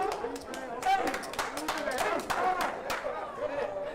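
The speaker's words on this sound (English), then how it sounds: "And the crowd goes wild." Crowd at a poker final table of a $560 no-limit hold'em event clapping and cheering after a river card, a dense burst of applause with excited voices and chatter throughout.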